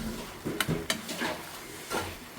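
Aloo methi being stirred in a pan, with several distinct spoon clinks and scrapes against the metal over a faint low sizzle, close and fairly quiet.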